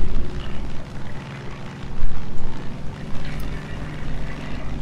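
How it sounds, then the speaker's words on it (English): A video-game airplane takes off after a very short run, its propeller engine giving a steady, loud droning roar with a rough pulsing texture that holds throughout, with no talking over it. "the plane can just take off from a very short distance."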